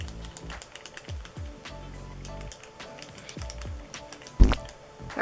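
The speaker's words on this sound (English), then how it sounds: "you just click the end here. I don't know how many times to click this." The end of an Etude House cushion concealer applicator pen with a sponge tip is clicked over and over, giving quiet, irregular plastic clicks close by.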